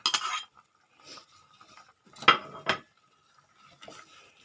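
A spoon stirs a pot of Thai chicken jungle curry with long eggplant and aromatic leaves, giving a few sharp scraping clinks against the pot in short bursts separated by quiet pauses.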